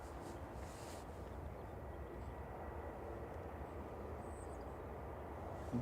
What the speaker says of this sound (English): This one far out, which I think is Logan Air coming in from Aberdeen, ERJ E145.